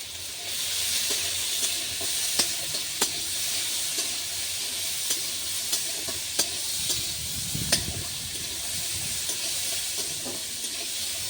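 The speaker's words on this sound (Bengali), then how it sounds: "গাজর বিনস ক্যাপসিকামগুলো ভাজা হয়ে গেছে" Carrots, beans and capsicum frying in a pan for mixed fried rice, a steady close sizzle broken by sharp clicks of stirring, with no one talking.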